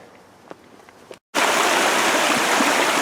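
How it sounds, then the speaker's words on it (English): Stream water rushing along a hiking trail on Wisconsin's Ice Age Trail, a steady loud broadband wash close by that starts abruptly after a quieter opening. "Water's flowing pretty good."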